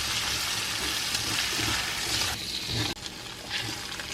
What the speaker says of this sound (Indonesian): Kita tumis keluaknya bersama bumbu halus tadi ya.